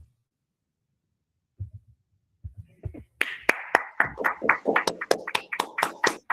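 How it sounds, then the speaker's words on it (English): Near silence with a few soft bumps gives way to a burst of lively clapping from a webinar audience welcoming Fred Nonde Jr., thin and close, with many quick overlapping claps. "Let's give him a round of applause."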